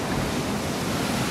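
Ocean surf rolls onto the beach at Elmina, Ghana, a steady loud wash of breaking waves with no talk, filling the short stretch evenly.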